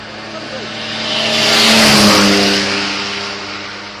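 A classic car's beefy engine roars past, swelling from a distance to a loud peak mid-pass and fading away, with people talking over it.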